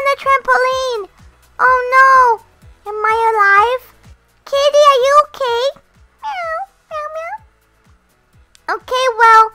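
A series of high, whiny cat meows from the video game Roblox, repeated in short bursts with pauses between, over faint rhythmic ticking.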